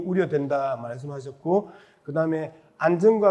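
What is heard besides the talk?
No everyday noise stands out behind the speech.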